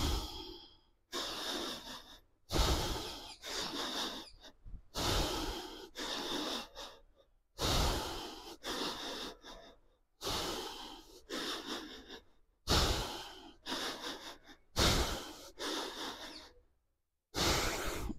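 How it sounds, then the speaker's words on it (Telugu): Slow, deep yoga breaths taken while holding the tadasana pose, at about 8 breaths. Each full inhale and exhale is close and clearly heard, with short silent pauses between them. "ఈ స్థితిలో 8 శ్వాసలు."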